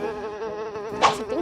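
A housefly buzzes steadily and close by, its drone holding a continuous tone with a brief louder swell near the end.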